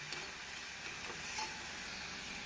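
Onions sauté in a pan for onion uttapam, giving a soft, steady sizzle and hiss that stays faint and even throughout, with no voices over it.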